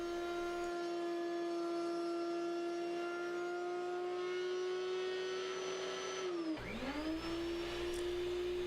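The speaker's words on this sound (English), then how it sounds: "I'm going to route out a groove so that I can position the miter gauge at whatever angle I want to cut" A router bit cuts a groove into a wooden workpiece for a miter gauge, taken in short passes. A steady, loud, high motor whine runs throughout, briefly dipping and recovering near the end, with no talking.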